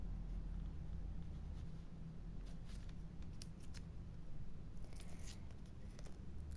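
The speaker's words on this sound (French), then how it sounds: "Voilà, je coupe." Scissors snip through paper for an art journal collage in two short bursts of soft cutting strokes over a steady background hiss.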